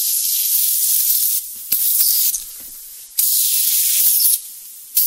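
A spray can of cleaner hisses in several long bursts onto the motor windings of an RCA 9-EY-3 45 record player, with short pauses between them, close and loud, with a few clicks and rattles in the gaps.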